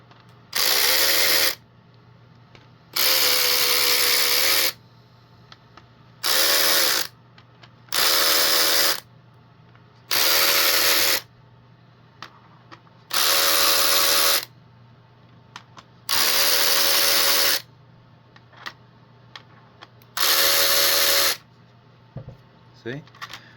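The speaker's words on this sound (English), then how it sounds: "before I use the electric ratchet" Electric ratchet loosening screws on a 2006-2008 Ford F-150, nine loud whirring bursts of a few seconds each separated by short pauses, with a low steady hum underneath.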